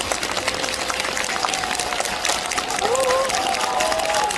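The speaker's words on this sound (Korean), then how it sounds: "큰 박수를 부탁드리겠습니다" Applause from the crowd at the Buddha's Birthday ceremony at Jogyesa Temple in Seoul, a dense, even spread of clapping with faint tonal sounds and distant voices beneath it.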